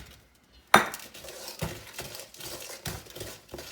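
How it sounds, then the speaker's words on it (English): A spoon stirs cookie ingredients such as baking soda in a bowl, with a sharp clink at the start and then light, irregular scrapes and taps against the bowl, close and fairly quiet. "just give it a little stir"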